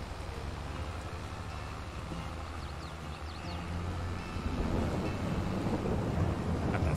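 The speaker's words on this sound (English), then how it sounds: "Got the thunder and everything." Thunder in the Farming Simulator 22 video game rolls as a low, continuous rumble that swells louder toward the end, with a few faint higher chirps in the middle and no talk.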